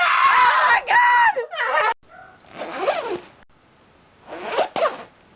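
A clothing zipper zips in quick, loud, close strokes, the bursts spaced across several seconds, mixed with voices and squeals; someone may be mimicking the zip vocally.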